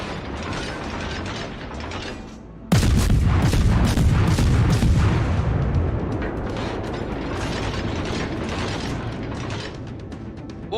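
Naval gun shells fired from the German Tier II cruiser Dresden in World of Warships, with a loud booming onset followed by rumbling blasts and clanking, ratcheting turret mechanisms.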